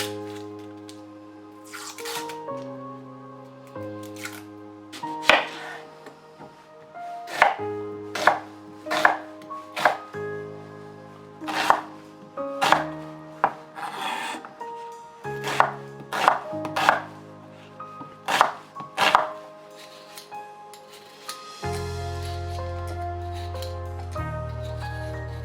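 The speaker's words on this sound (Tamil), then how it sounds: "நான் வந்து மிச்ச பொருட்கள்லாம் நறுக்கி எடுத்துக்க போகிறேன்." Vegetables being chopped on a board for soup: a long run of crisp, fairly steady knife strikes, loud and close, set against background music with no talking.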